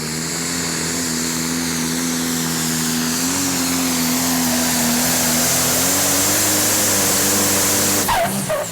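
Pulling tractor Next Sensation, totally rebuilt this season, roars at steady full power through its run at a European tractor pulling championship in Brande, Denmark, loud and close with a rough droning tone, cutting off sharply near the end.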